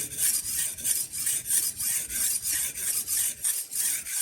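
A kitchen knife blade is drawn repeatedly along a sharpener, giving a loud, close, rhythmic series of bright rasping strokes, about two per second, each sliding the full length of the blade at a steady angle.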